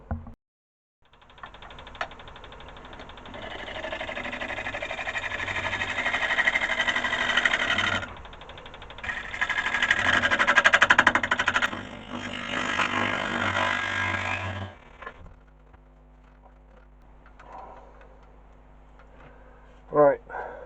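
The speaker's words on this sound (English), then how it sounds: "So I'm going to use the scraper now, try and clean up this edge here" A scraper cleaning up the edge of a yew bowl on a wood lathe, a steady close whirring drone with a brief pause in the middle, fading out into quieter workshop noise and a short knock near the end.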